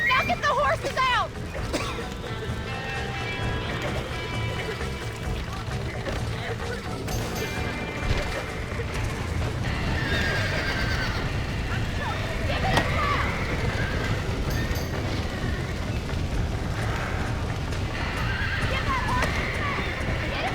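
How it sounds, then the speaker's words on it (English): Horses neigh and whinny repeatedly while hooves clatter in a chaotic Red Dead Redemption ranch scene, loud and close, with a voice talking over parts of the commotion. "Now get the horses out!"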